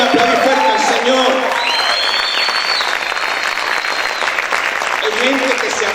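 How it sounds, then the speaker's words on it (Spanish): A church congregation claps loudly and steadily throughout, a dense crowd applause with some voices rising over it. "¿Cuántos pueden aplaudir fuerte al Señor?"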